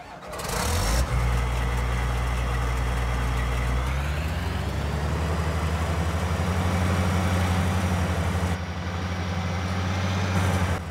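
John Deere combine harvester engine in the video game Farming Simulator 19, starting up with a rising whine and then settling into a steady, loud, low idle hum that continues alone.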